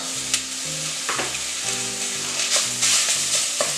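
250 grams of beef mince browning in a pan, a loud close sizzle with repeated stirring scrapes at an irregular rhythm over a low humming background tone.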